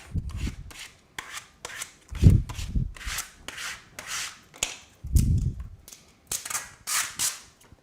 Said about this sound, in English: grab your squeegee here and go from the inside out